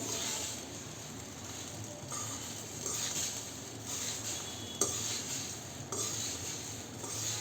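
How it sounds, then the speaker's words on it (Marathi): Thin flattened rice chivda being stirred in a small kadhai gives soft, quiet scraping and clinking of a spoon against the metal pan, in a few separate strokes with no talk. "आता आपण हे छान असं मिक्स करून घेऊया खाली"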